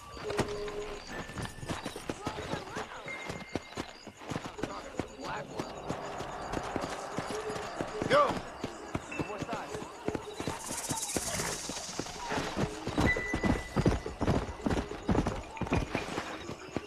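Horse hooves clop steadily through a Red Dead Redemption game scene, a whinny breaking through midway, while someone talks over the gameplay.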